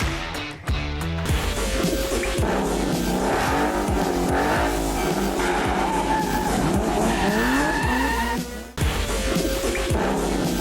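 A Mazda RX-7 drives hard in Karachi, its engine roaring loudly and close while tires squeal and skid repeatedly, with a brief dropout of sound partway through.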